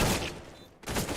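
A quick burst of rifle fire in a Counter-Strike match, with loud shots at the start, a brief lull, then another volley of rapid gunfire.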